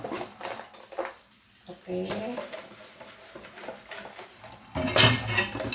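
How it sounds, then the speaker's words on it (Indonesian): Greasy stove parts are washed with soap and water at night, with clinking metal, sloshing and splashing in bursts beneath a person talking nearby. "Dicuci ya teman-teman pakai sabun karena ini kan tempat masak itu berminyak biasanya, jadi harus dicuci menggunakan sabun."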